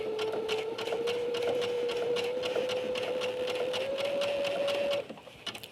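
A sewing machine stitches steadily along a curved seam, its motor whirring loud and close with a rapid needle rhythm, speeding slightly before stopping abruptly near the end; no one talks.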